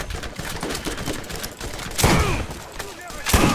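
Enemy gunfire in the video game Borderlands: rapid bursts of automatic shots rattle continuously, with louder, sharper volleys breaking through near the middle and end, dense and close.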